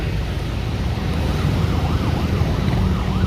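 An ambulance siren wails up and down in a steady cycle, somewhat distant, over heavy traffic rumble and road noise, near a large fire in Zapote.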